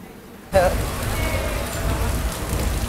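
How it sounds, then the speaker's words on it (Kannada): Rain begins pouring at a railway station stop of the Mangalore–Mumbai CSMT express, a sudden close hiss of drops on surfaces after a quiet half-second, then steady and dense. "ನೀವು ನೋಡ್ಬೋದು ಮಳೆ ಸ್ಟಾರ್ಟ್ ಆಗಿದೆ."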